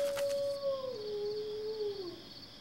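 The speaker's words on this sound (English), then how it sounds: "we hear wolves." A single wolf howl in the horror game Slender: Lost Vision rises and slowly slides downward over a low ambient drone, sustained and fairly clear with no talking.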